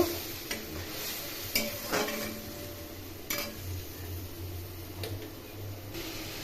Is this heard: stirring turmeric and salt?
yes